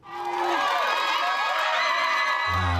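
Loud crowd outside a courthouse cheering, whooping and shouting just after a civil jury verdict awarding $1.75 million, a dense sustained roar of many voices that ends in a low rumble.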